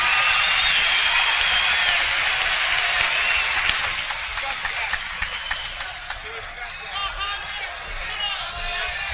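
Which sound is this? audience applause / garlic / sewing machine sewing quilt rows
audience applause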